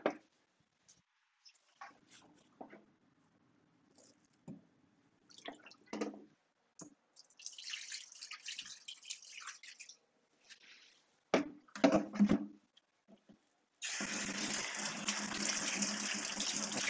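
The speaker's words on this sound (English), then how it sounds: "I'm going to dump this water into that sink and then fill it up with a little extra" At a sink, water is dumped from a container with drips and gurgling splashes, then a tap runs in a steady, loud gush to refill it, the flow continuing to the end.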